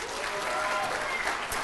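An audience at a university awards ceremony claps steadily for a presenter, a brief burst of applause filling the room at moderate distance.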